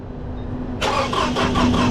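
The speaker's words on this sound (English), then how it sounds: "Crank again." A 2006 Toyota RAV4 cranks without starting, its starter whirring in a steady pulsing rhythm for about a second after a quiet idle hum, close and loud with no catch.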